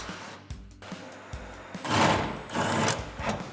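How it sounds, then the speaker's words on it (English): Impact wrench spinning off a 15mm shock bolt with a locking nut on a Ford F-150 during a suspension lift install, heard up close in several short bursts of whirring and rattling. "we're just gonna take that off for our impact and 15mm socket"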